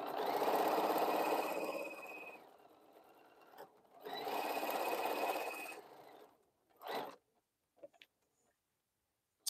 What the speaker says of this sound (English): So now we sew this.